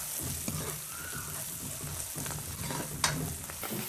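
Fenugreek leaves frying in a pan with salt and chilli powder, a continuous quiet sizzle with intermittent scraping stirs and a sharper clink near the end, close and without talk.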